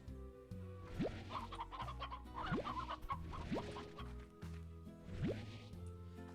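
Stony hens in the video game Slime Rancher cluck in short, repeated bursts, with occasional rising chirps over a steady game music backdrop.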